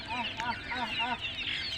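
Chickens at a local poultry farm clucking in a short series of repeated calls, fairly close, over a steady background of other birds.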